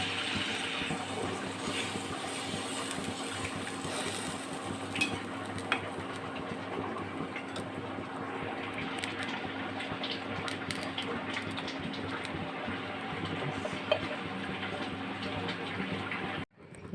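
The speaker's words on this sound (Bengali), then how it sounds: "এরপর আমি একটু করে জল দিয়ে দেবো, যতটা ঝোল লাগবে সেই অনুযায়ী জলটা দিতে হবে।" Water poured into a pan of Bengali fish curry with potato and pointed gourd, a steady close hiss of pouring and simmering that runs continuously before cutting off abruptly, no speech.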